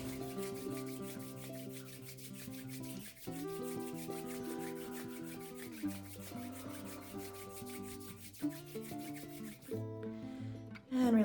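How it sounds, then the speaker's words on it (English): Palms rub briskly together in a soft, continuous swishing friction, faint and close, under gentle sustained music with no talk. "bring your hands together and rub them together to get some heat and energy"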